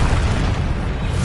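Descendo spell cast in the video game Hogwarts Legacy, a loud, dense rumbling boom that fills the whole moment without pause.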